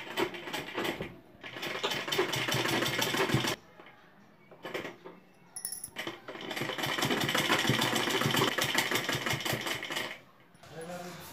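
A sewing machine stitches several potli buttons onto a collar in bursts of rapid mechanical chatter, stopping and restarting a few times, with short pauses between runs.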